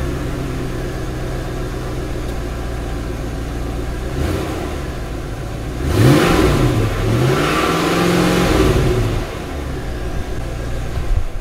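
A car engine idles steadily, then revs up in a rising and falling sweep for a few seconds before settling back to a low idle, close and loud with no talk.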